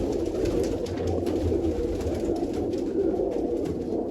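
A pigeon coos amid a loud, dense flock murmur in a loft, low rolling notes blending into steady background noise without pause.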